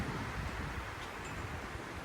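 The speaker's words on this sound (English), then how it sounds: "It's extremely windy today. The wind is about 60 kilometers, gusting to 80 and 90." Strong gusty wind blows through a garden, a steady faint rushing hiss with a low rumble, alone with no voices.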